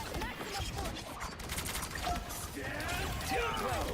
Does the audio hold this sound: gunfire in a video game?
yes